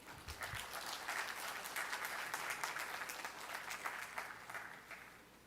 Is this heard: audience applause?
yes